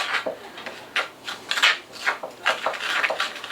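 Cornstarch and dry rub for dry-brined chicken wings being mixed in a bowl, giving repeated close scraping and rubbing strokes in an uneven rhythm, with no talk.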